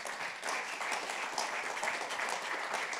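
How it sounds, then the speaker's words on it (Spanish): A church congregation applauds loudly during a Spanish-English service, a dense, steady wash of clapping from a large crowd filling the whole stretch without pause. "aplauso fuerte"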